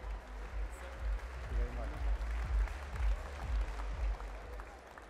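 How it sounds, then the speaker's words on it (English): An audience claps at a Johannesburg Stock Exchange listing-day launch event, a sustained round of applause from a crowded room, fairly loud and continuous, with voices mixed in. "A big round of applause."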